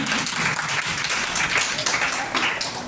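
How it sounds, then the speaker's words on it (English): A college audience at an Ozone Day event claps together in steady, dense applause to welcome the vice principal, fairly close and continuous throughout. "Claps for them."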